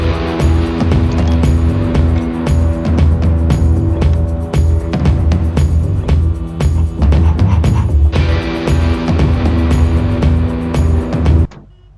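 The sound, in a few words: cars on a highway in a mobile video game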